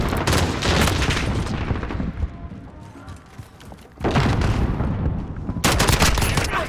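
FAL rifle gunfire in Call of Duty Modern Warfare: loud, close bursts of rapid shots crack out over the first two seconds, ease off briefly, then resume in dense volleys through the end.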